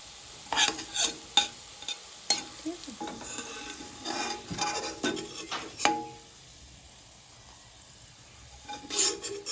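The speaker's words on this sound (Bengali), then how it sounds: "একটি বড় সাইজের ছাড়িয়ে রাখা রসুন ভালোভাবে ভেজে নিতে হবে" Peeled large garlic cloves frying in oil in a pan, with stirring scrapes and utensil clinks over a low sizzle, several sharp knocks clustered through the first six seconds, then a quieter stretch.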